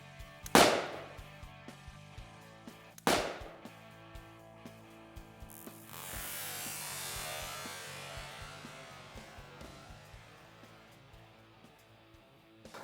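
Mechanical detonation set off by army sappers: two sharp, loud blasts a few seconds apart, followed by a long rushing wash of debris and rumble that slowly fades, with small ticking noises throughout.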